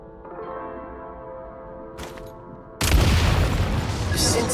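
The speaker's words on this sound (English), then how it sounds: "Shoot the explosives to detonate them and clear the path." Explosive barrels detonating in Genshin Impact, Snezhnaya Archon Quest, Shadow Realm: a loud, sharp blast with broadband rumble cuts in after a steady tonal game score, following a brief earlier burst.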